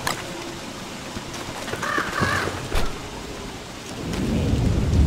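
Rain and thunder in the survival game Don't Starve: a steady hiss of rainfall with a sharp thunder crack, and the storm noise swells toward the end.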